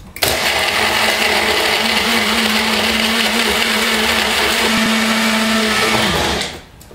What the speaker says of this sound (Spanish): Ahora vamos a licuar.